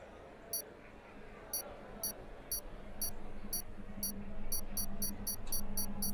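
A series of short high beeps, spaced at first then quickening into a rapid run, over a low engine-like rumble: the race start lights countdown of a Formula 1 video game at the Brazilian Grand Prix.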